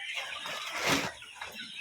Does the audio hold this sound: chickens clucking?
yes